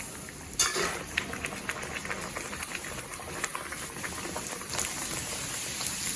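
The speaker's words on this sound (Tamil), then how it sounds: "இப்போ இந்த பூரியை இது உள்ளே போட்டு" Rava poori frying in hot oil gives a steady, dense bubbling sizzle that holds throughout at close range, with scattered small pops and spits rising over the wash.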